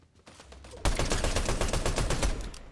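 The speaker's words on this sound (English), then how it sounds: "We're getting shot at." Rapid automatic gunfire in the video game Fortnite, a loud sustained burst of shots that starts abruptly after a short quieter lead-in.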